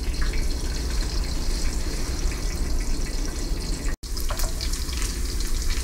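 Great Value hickory smoked bacon frying in a pan, a steady close sizzle and crackle with scattered pops throughout, briefly cut off near the end before resuming.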